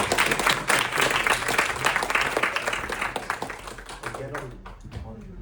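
An audience applauds to welcome a speaker at an IMS event, with dense, moderately loud clapping that thins out and fades near the end, and a voice comes in over it.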